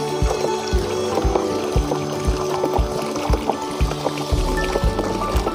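Water overflowing from a tank and pouring down into a paddy mushroom cultivation setup, a steady splashing stream with repeated low thuds, close and fairly loud.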